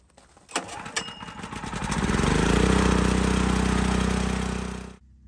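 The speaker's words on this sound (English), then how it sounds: "We'll start it up and let it warm up for a few minutes." A backup generator engine cranks with a few sharp clicks and then catches. It settles into a loud, steady running drone that holds for several seconds before it cuts off abruptly.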